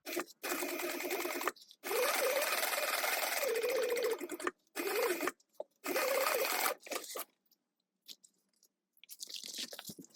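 Sewing machine running a quarter-inch seam on fabric pieces, stitching in several bursts of steady motor whir with short pauses between, ending with quieter, lighter stitching.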